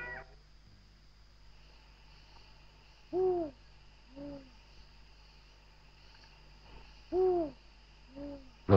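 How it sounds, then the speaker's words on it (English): A spotted eagle owl hoots at night in the African bushveld, two pairs of deep, soft hoots a few seconds apart, each a stronger note followed by a quieter one, over a steady hum of insects. "The voice of the spotted eagle owl, black-beaked and taloned, awakes a tremor of ghostly things"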